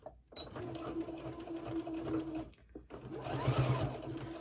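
A sewing machine straight-stitches a boxy fabric pouch, backstitching at the start and end: close mechanical whirring bursts that stop briefly and restart, with faint talk in the background.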